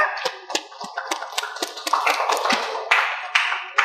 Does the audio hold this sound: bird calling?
no